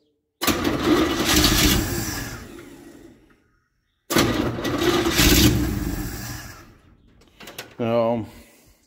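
A 283 engine in an old parts truck cranks and catches twice, each burst a loud, close rumble that runs a few seconds and fades out, then a short, rough third attempt.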